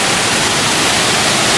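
A Tennessee waterfall pours down over rocks in a loud, close, unbroken roar of rushing water, with no voices heard.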